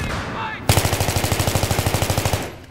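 Rapid automatic fire from an M16 rifle in the video game Battlefield 3, a loud, steady burst of evenly spaced shots lasting about two seconds after a brief quieter lead-in.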